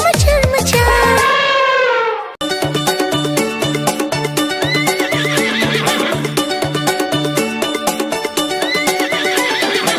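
A horse neighs loudly with a long descending whinny, then steady rhythmic clip-clop hoofbeats run with bouncy music in a Hindi children's nursery rhyme.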